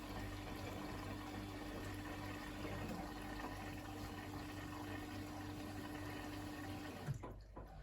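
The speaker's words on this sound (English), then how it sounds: "Now it's taken on more water again." A Bosch Exxcel 1600 washing machine filling with water, a steady soft rush of flowing water with a constant faint hum, continuous and fairly quiet before a brief clunk at the end.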